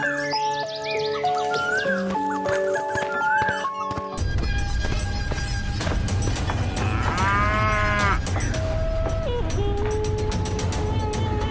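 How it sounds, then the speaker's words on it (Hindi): An old cow named Gauri gives one long, drawn-out low that rises and wavers, heard midway over busy background music and clicking mechanical sounds. "गौरी जब भी घास चरकर आती तो रंभाते हुए भगवान को याद करती"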